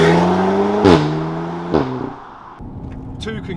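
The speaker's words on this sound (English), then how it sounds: "my favourite thing is the way it pops when you change gear" An Audi TTS MK3 revs and shifts gear, engine tone climbing then dropping with sharp exhaust pops and cracks at each change, loud and close, settling to a quieter burble at the end.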